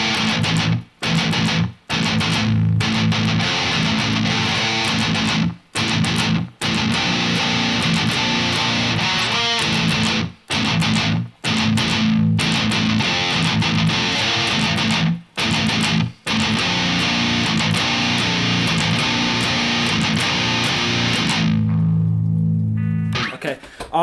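Loud, dense distorted electric guitar plays a closing riff for over twenty seconds, cut by short rhythmic stops, and ends with a ringing tail that quickly fades.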